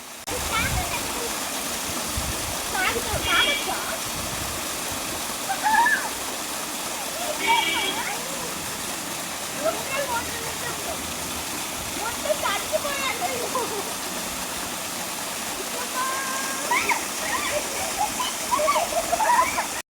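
The Singiri Kona waterfall roars steadily and evenly throughout, a constant rushing wash with faint voices surfacing now and then.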